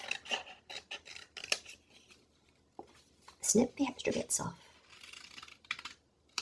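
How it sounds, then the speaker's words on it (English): Scissors make quick, close snips along the edges of planner stickers, coming in rapid clusters while a person talks over them. "just snip the extra bits off"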